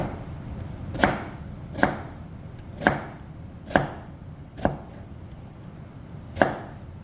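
A knife chops bell pepper on a cutting board in six sharp, evenly spaced strikes about one second apart, close and distinct over a faint kitchen background with no talking.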